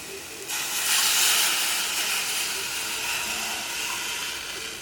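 Vegetable stock hits hot sautéed vegetables for a restaurant-style vegetable soup, setting off a loud, sudden hiss that swells briefly and then settles into a steady, fainter steam.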